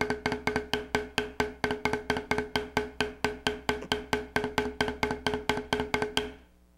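Beginner's drum stick rolls choked by gripping the fulcrum too tightly, a steady run of about two dozen clipped, pinched strokes at an even pace, close and loud, each one cut short instead of ringing.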